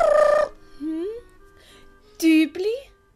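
A voice imitating a dove cooing in a Swiss German children's audio story, short warbling coos in two bursts with pitch-bending hoots, close and clear, following a brief spoken phrase.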